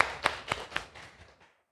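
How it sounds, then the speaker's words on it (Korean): A church congregation gives a short round of clapping: a few distinct, fairly faint claps in quick succession that thin out and stop within about a second and a half. "예, 박수 한번 쳐주세요."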